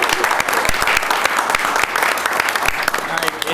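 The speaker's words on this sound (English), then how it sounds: "So We can at least applaud for that." Applause breaks out among attendees at a village board meeting, a brisk round of clapping from a small room of people, fairly close and continuous throughout.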